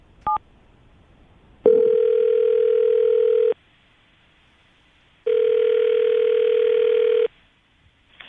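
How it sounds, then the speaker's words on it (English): Two long, steady telephone dial tones sound in turn while a call is being placed, separated by a pause and preceded by a brief beep, loud and clear with no talking. "I'm going to call him right now, see if we can get him on the phone"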